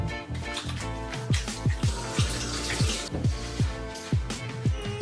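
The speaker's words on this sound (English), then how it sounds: "Now the next thing I'm going to do is wash my hands so that I'm spreading no bacteria across my face." Tap water runs into a sink during hand washing, a steady wash of noise broken by a quick series of bright, falling drip-like plops. It is close and fairly loud, with no talking.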